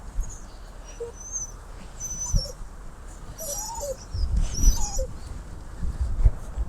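A nervous, insecure dog whimpers in short high whines during a lead walk outdoors, faint and intermittent over background noise, with a few soft bird-like calls.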